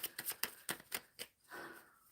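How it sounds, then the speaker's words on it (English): Tarot cards are shuffled in a quick run of about eight crisp riffling bursts, close and distinct, then a short softer slide at the end. "Shuffling."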